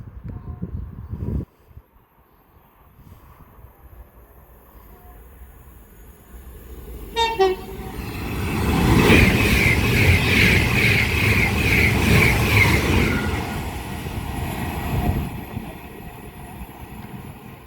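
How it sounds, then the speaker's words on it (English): An Avanti West Coast Class 390 Pendolino passes on the West Coast Main Line at Cheddington, sounding a two-tone horn before the loud roar of the train rushes by close to the trackside for several seconds, then fades. "passing through now is going to be an Avanti West Coast Class 390 Pendolino, going from Liverpool Lime Street to London Euston."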